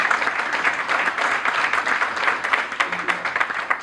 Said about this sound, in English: let's give him a round of applause for a great presentation